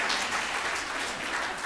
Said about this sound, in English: Applause for chanting.